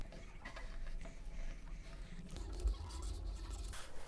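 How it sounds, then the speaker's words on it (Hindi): A straight line is ruled onto paper with a scale while marking a pattern for cutting a blouse sleeve: a soft, steady scratching of the marker sliding along the edge, close and continuous, with no voices. "अब निशान को यहाँ से इस तरह से सीधा आप स्केल से कर सकते हैं"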